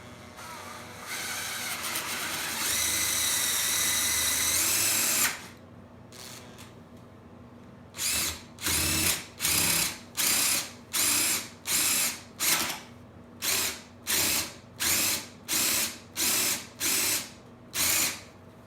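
Power drill boring into wood for a homemade sawbuck, a long continuous whine at first, then a dozen short evenly spaced bursts of drilling, close and clear.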